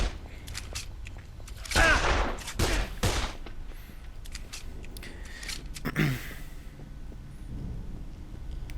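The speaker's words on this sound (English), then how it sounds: "I could pull out my trusty shotgun. Do a little bit of damage with that thing." Shotgun fire in a zombie video game, several heavy booming blasts spaced a second or so apart over a rumbling background, loud and close.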